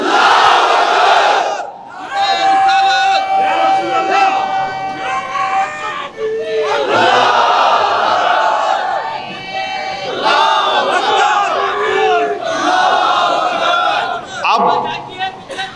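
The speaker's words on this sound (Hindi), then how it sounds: "अब लगाओ नारा, नारे तकबीर" A large political rally crowd shouting the Nara-e-Takbir slogan in loud massed call-and-response chants, with voices roaring continuously and close, swelling in waves over the whole stretch.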